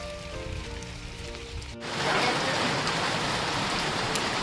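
Steady rain falling on an organic peanut field during the monsoon, a dense broadband hiss that swells loud and even after a brief stretch of tonal sound at the start.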